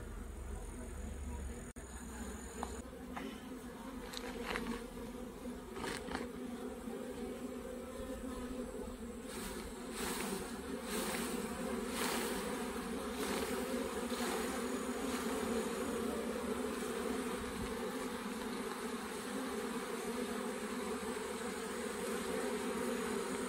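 Honeybees buzz steadily and close while being shaken off a fresh hive frame of brood and honey during a honey extraction, a dense continuous drone with a few sharper knocks and rustles.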